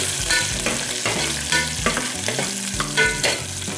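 A loud, continuous sizzle of food sautéing in hot oil with cumin, with repeated scraping stirs of a utensil in the pan close by.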